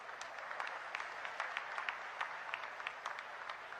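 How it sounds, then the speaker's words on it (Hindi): Distant, faint applause from a political rally crowd, scattered sharp claps forming a thin, steady patter. "एक बार जोरदार तालियां इनके लिए भी मार दीजिए।"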